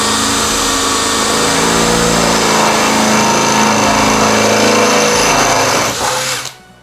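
A Bosch GSB 185-LI cordless drill drives an 8 mm high-speed steel bit into steel tubing. It runs loud and steady with a high motor whine for about six seconds, then spins down and stops.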